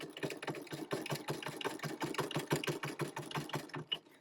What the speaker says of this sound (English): now I'm going to sew to the middle, and I apologize for my machine. It's been sounding kind of clunky lately.